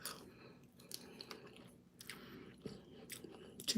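Close, quiet chewing and biting of Ethiopian food, chickpeas and spinach, with soft wet crunches and squishy mouth sounds in an uneven rhythm, no talking.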